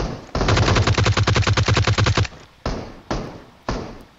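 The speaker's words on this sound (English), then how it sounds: "There's more shots up here." Automatic gunfire in PUBG Mobile: a rapid, loud burst of about fifteen evenly spaced shots, followed by three single, separate reports after a short pause.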